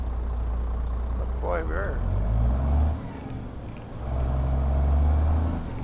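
A Kenworth W900 truck from American Truck Simulator labours under a load of cattle, its deep engine rumble swelling and easing, with someone talking over it and a short hiss midway.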